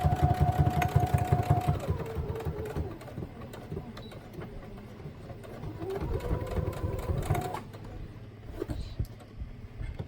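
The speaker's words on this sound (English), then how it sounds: "A lot of stitching, huh?" Stitching a handmade mini-book produces a continuous mechanical whirring and rattling of stitches that runs steadily for about ten seconds, fairly close, with no talking.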